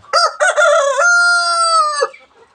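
A loud, close rooster crows once: a couple of short rising notes into a long held call that breaks off sharply.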